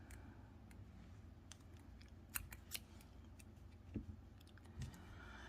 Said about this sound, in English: I'm going to cut off this white strand of yarn